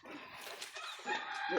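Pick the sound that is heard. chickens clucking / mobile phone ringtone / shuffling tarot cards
chickens clucking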